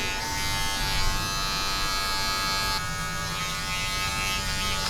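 Electric hair clippers buzz steadily and close up while fading hair during a design fade haircut, the motor tone shifting slightly as the blade moves, with no talking.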